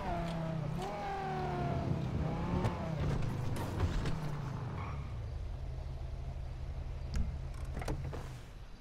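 Vehicles in the video game GTA 5 pass and rev in a city street, with rising and falling engine tones in the first half, then a steady low hum and a few sharp knocks.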